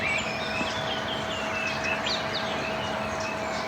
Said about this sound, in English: Birds, not singing yet, calling the day back to life.